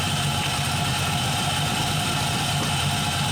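An LS-swapped engine runs at a steady idle close by, with a continuous deep rumble and even vibration throughout, no voices.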